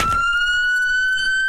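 An ambulance siren sounds as a woman in Tulsa is rushed to hospital: one sustained, piercing tone that climbs slowly in pitch, opening with a short rough burst, steady and fairly close with no voices.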